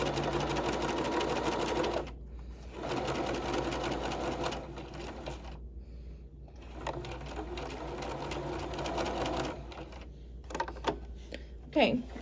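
A sewing machine stitches a princess seam on a garment, running in close, steady bursts with short pauses between them and a few light clicks near the end.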